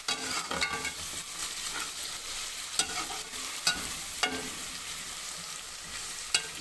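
Ginger garlic paste fries for a chicken biryani, crackling in a pot while a spoon stirs and knocks against the sides in irregular sharp clicks, close and continuous, with nobody speaking.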